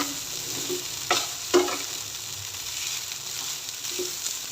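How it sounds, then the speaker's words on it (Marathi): Lemon rice being stir-fried in a pan over medium-to-low flame: a steady close sizzle runs throughout, broken by a couple of quick spatula scrapes and clinks. "त्याला आता ना एक दोन मिनटं आपण असंच परतून घेऊया मीडियम टू लो फ्लेमवर"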